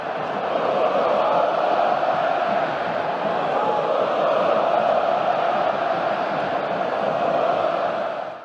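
A large Flamengo stadium crowd roars in a dense, sustained chant of olé, loud and unbroken for several seconds before cutting off, with no separate voices above it.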